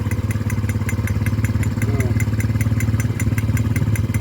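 A motorcycle engine idles steadily nearby with a regular knocking clatter that beats evenly through the whole stretch, with no voices over it.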